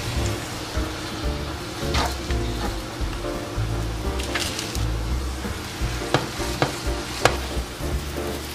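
Chopped garlic and kale sautéing in a pan, a steady close sizzle with occasional stirring clicks and scrapes running throughout, fairly loud and with no voices.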